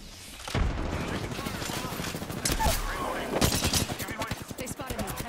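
Rapid gunfire from an Apex Legends match, with bursts of shots and heavier bangs crackling over a busy game soundscape, loud and close throughout.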